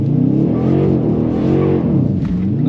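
A Dodge Challenger R/T's V8 revs loud and close as the car drifts sideways, its engine note swelling and dipping in a continuous harmonic roar with no talk over it.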